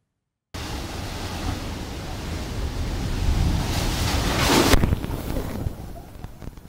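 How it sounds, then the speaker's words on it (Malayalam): Strong sea waves crash onto the Kozhikode coast in a broad, rushing roar that builds to a loud surge and then recedes, with a wind-like hiss throughout. "ജില്ലയുടെ തീരപ്രദേശങ്ങളിൽ ശക്തമായി തിരമാലകൾ ആഞ്ഞടിക്കുകയാണ്."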